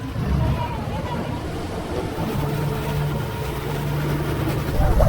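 A boat engine on a sea trip to Sitangkai in the far south of the Philippines gives a steady, fairly loud low drone with water and wind noise, while people talk over it.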